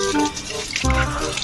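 Strong water rushing through a rice paddy, a steady close splashing flow filling the short moment without talk.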